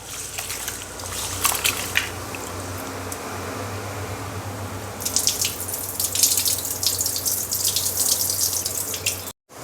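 Running tap water splashes steadily into a sink while rice is washed by hand, a continuous near hiss that grows louder and busier in the second half as the grains are stirred, with no talking.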